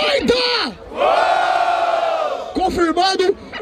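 A crowd at a Brazilian street rap battle roars and cheers loudly during the vote, with a sustained swell of shouts and yells, a brief dip, then further bursts of whooping near the end.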